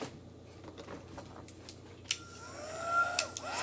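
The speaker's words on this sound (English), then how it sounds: "let's get our dryer again." A steady blowing whoosh from a nearby dryer hums throughout, with a few light clicks and taps on top.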